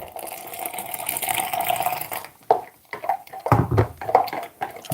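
Hot water pouring over hot chocolate mix made with oat milk, a steady liquid rush at first, then broken into uneven splashes and trickles, close and moderately loud.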